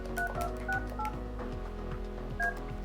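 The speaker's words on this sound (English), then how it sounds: "dial the number" Keypad dialing tones from a Yealink T53W desk phone: a quick sequence of distinct electronic beeps, clear and close, repeating in a steady rhythm over a low background hum.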